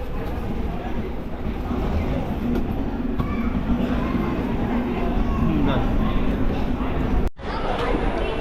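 Steady rumble and rattle of a train arriving at Dadar station in Mumbai, with indistinct voices and station bustle mixed in, constant and fairly loud throughout.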